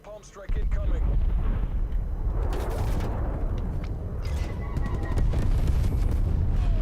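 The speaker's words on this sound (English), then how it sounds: "Enemy napalm strike incoming." Napalm strike in Call of Duty: Black Ops Cold War lands as a sudden loud roaring blast, then a sustained rumbling burn with crackling bursts over several seconds, close and heavy.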